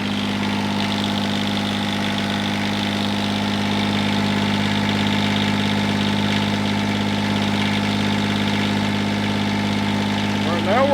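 A John Deere 332 lawn tractor engine runs at a steady idle, a loud, even mechanical drone that holds throughout with a constant low hum.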